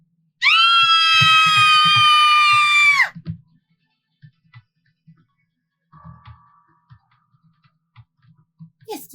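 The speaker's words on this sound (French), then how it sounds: "Nous t'avons entendu hurler" A person lets out one long, loud, high-pitched scream lasting about two and a half seconds, followed by near silence with faint shuffling and small knocks.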